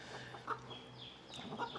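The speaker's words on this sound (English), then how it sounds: "they're just chickens, they're just birds" Chickens clucking softly to their chicks, a few short close calls scattered over steady low background noise on a farm.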